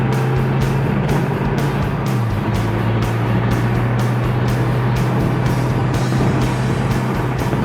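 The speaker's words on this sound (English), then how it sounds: "It's got a nice mellow sound coming from the twin trumpets out back." Ford Mustang GT coupe with a recently overhauled engine and new dual exhaust, heard while driving: a loud, steady, mellow exhaust drone with a low sustained note and continuous road noise.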